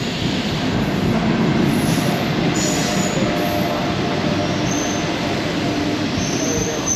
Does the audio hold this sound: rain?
no